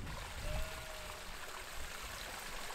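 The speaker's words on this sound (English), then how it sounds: "I can hear it. I can see it. Running water." Running water trickles steadily near an abandoned mine in the wild, a soft continuous wash heard close by and alone.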